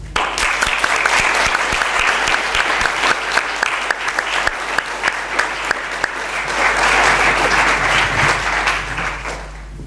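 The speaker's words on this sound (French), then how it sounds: "laissez-moi vous applaudir" An audience applauds at the end of a conference talk on entrepreneurship, with loud, sustained, dense clapping filling the whole stretch and a steady hum underneath.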